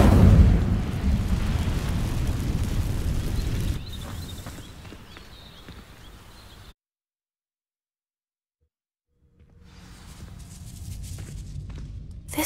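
A fire spell bursts into flame, setting dry vines alight in Hogwarts Legacy: a loud, roaring whoosh of crackling fire for several seconds, thinning to softer burning and faint footsteps, then silence before quiet ambience returns.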